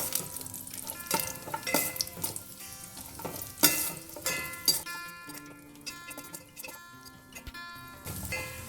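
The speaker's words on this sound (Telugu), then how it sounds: "వేడి కాగానే మనం ఈ డ్రై ఫ్రూట్స్ అన్నీ వేసుకొని వేయించుకోవాలి" Dry fruits frying in a hot pan for semiya payasam, a soft, steady crackle and sizzle with occasional stirring clicks, close and alone with no talk.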